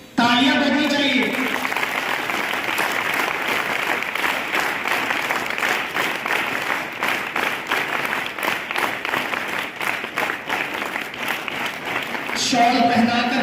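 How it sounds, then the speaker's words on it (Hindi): A school audience gives a sustained, dense round of applause welcoming a guest speaker for a cyber crime talk at Gurukul Educational, loud and close for over ten seconds, with brief talk at the start and end. "तालियां बजनी चाहिए।"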